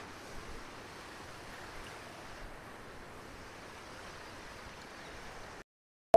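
Steady, loud rush of fast-flowing glacier meltwater mixed with wind buffeting at Thajwas Glacier, Sonmarg, Kashmir, a continuous roar that cuts off abruptly near the end.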